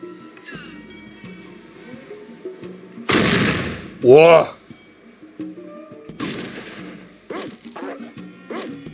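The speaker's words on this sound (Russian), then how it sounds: "у Яна такой же пистолет с громким выстрелом" Pistol shots fire in the video game Fallout, with a couple of sharp, loud bangs standing out over game ambience, and a man exclaims briefly.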